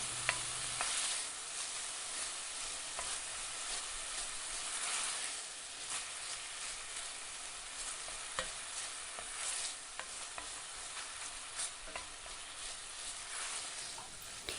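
Eggs frying in a pan over low heat, a steady soft sizzle and crackle holding at an even level throughout, with faint clicks of stirring.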